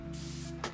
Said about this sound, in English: I'm gonna grab my setting spray now, just to give myself a little spritz.